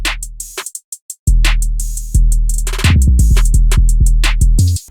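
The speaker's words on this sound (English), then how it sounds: "And again, altogether, drums sound like this." Punchy trap beat: booming 808 bass hits under crisp rapid hi-hats and sharp snares, starting with a sparse intro before the full groove drops in loud.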